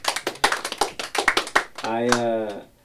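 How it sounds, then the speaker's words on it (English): A small group claps to celebrate someone landing a new job, a run of sharp, distinct hand claps for about two seconds, followed by a sustained voiced tone as someone talks or calls out at the end. "Let's clap that for employment real quick."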